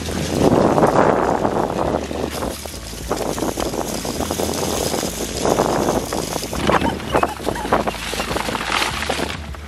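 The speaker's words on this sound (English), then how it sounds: "you're pretty much just gonna get wind noise if I'm talking outside" Gusty wind buffets the microphone outdoors while foraging for acorns in autumn, producing loud, continuous rumbling bursts that swell and fade throughout with no clear speech.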